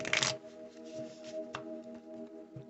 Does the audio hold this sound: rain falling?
no